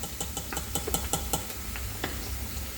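Onions are tipped into a pan of frying puttu and stirred, a spoon clinking and scraping in quick taps over a soft sizzle.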